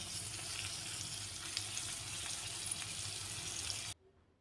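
Eggs sizzle in a pan with finely chopped spring onion and coriander, a steady soft frying crackle with faint pops that cuts off abruptly near the end.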